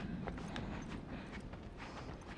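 Hooves clip-clop in a fast, steady rhythm from a horse in The Last of Us, close and continuous over a dense game soundscape.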